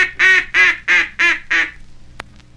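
A duck call blown to imitate a mallard, the kind used for puddle ducks, gives five loud, evenly spaced, nasal quacks close up, followed by a single sharp click and quiet.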